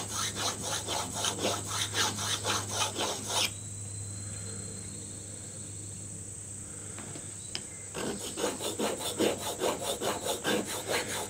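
A forged plane iron for a box plane is rubbed back and forth on a sharpening stone lubricated with penetrating oil, about ten rhythmic scraping strokes, then a pause with a faint hum, then more strokes.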